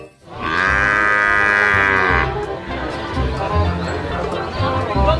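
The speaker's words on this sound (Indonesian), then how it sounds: "Wow, kita menemukan kerbau." A water buffalo moos with a long, loud, close call for about two seconds, followed by lower grunting and rustling in the background.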